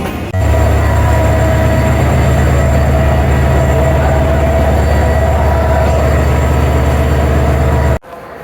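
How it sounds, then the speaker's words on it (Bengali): At Kamalapur railway station in Dhaka, a train gives a loud, continuous low rumble and rolling drone that cuts off abruptly near the end. "আমরা একটা বিশ মিনিটে কমলাপুর রেলওয়ে স্টেশনে এসে পৌঁছলাম"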